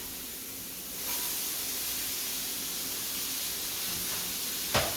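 Pasta with browned onions, portobello mushrooms, cherry tomatoes, zucchini and a green pesto-style sauce sizzling in a pan, a steady broad hiss that swells after a second and holds, with a single sharp clack near the end.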